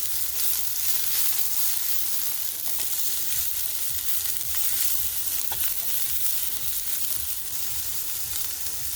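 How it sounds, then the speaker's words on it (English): Onion, carrot, peppers, celery and cabbage sauteing in a pan for a bulgur dinner give a steady, close, dense sizzle with occasional stirring scrapes, no talk. "saute the onion, then add the carrot, peppers, celery, and the cabbage. Saute the vegetables."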